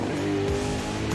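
A 2009 BMW Alpina B7 GT3 race car engine drones steadily and loudly for a moment, a dense sustained roar with no voices.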